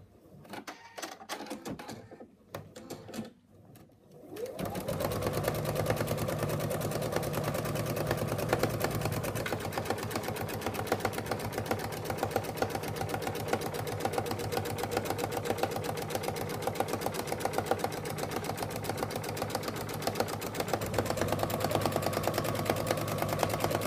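An embroidery machine stitches an in-the-hoop wallet, starting after a few brief clicks and then running as a steady, rapid mechanical chatter with a low motor hum that continues unbroken for about twenty seconds.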